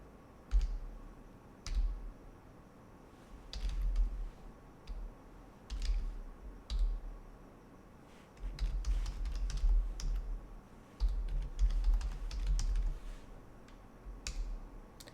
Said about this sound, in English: So let me just type in a long command that's going to do that.